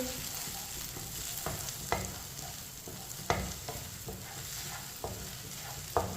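Beaten eggs stirred with a spoon in a hot pan while making Chinese fried rice, a steady close sizzle broken by sharp scraping clicks of the spoon every second or so.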